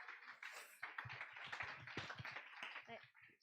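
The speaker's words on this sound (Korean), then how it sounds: "우리 회장님 나오셔서 큰 박수 맞으시면서 우리 광고하도록 하겠습니다." Faint clapping from a young adults' church worship congregation as the chairperson comes forward, soft, irregular claps mixed with murmuring voices, distant and quiet in a large hall.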